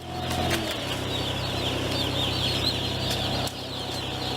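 Day-old baby chicks lowered from a tray onto a farm floor, a dense continuous chorus of high cheeping with soft wing flutters over a steady low mechanical hum from barn equipment, loud and close throughout.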